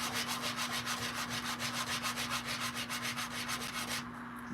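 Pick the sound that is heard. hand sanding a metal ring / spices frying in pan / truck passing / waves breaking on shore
hand sanding a metal ring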